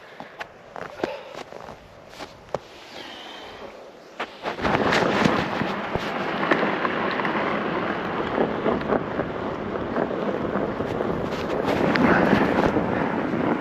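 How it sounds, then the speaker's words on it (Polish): Wind rushes through the treetops of a winter forest during a mountain bike ride, with a quieter, gusty start and then a steady, full roar from about four seconds on. "Gdzieś go tam tylko słychać koronie drzew."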